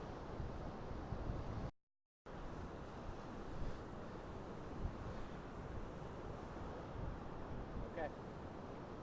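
Ocean surf breaks along the rocky coast at Moss Beach, a steady, broad wash of waves with wind rumble on the microphone, heard from nearby and continuous apart from one brief gap.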